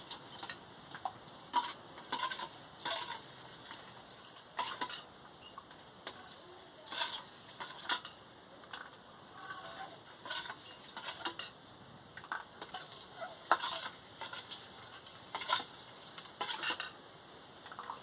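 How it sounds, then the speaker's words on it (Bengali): A mango and sago mixture being stirred after chili powder is added: rhythmic bursts of metallic clinking and scraping of a utensil against the vessel, fairly close and repeated throughout, with no talking. "লঙ্কার গুঁড়োটা দিয়ে দিচ্ছি দিয়ে ভালো করে নাড়িয়ে নিচ্ছি"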